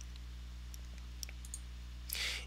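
Computer mouse clicks while opening images to upload in a GIF maker: several faint, sparse clicks over a steady low hum, ending in a slightly louder click burst.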